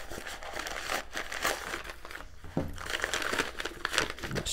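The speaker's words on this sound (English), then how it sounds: "It's just wrapping paper." Crinkly wrapping paper being unwrapped from a pouch package, a steady close rustling and crumpling with brief pauses, no voices.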